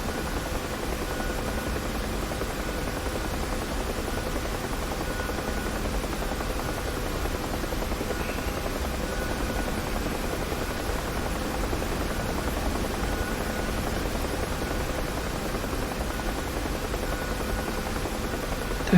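A UH-1H Huey helicopter flies over Dubai in the DCS flight simulator, its rotor and turbine making a steady, dense, unbroken roar that holds at an even level throughout with no voices.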